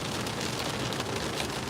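Heavy rain pours down near a road bridge, a constant close hiss of countless drops hitting hard surfaces, uniform and unbroken.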